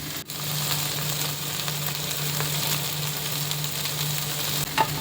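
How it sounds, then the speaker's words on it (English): Ginger garlic paste sautéing in a pan for veg soya keema: a steady, close sizzle with a faint low hum beneath and a light stirring knock near the end. "Add ginger garlic paste and saute well until the raw smell disappears."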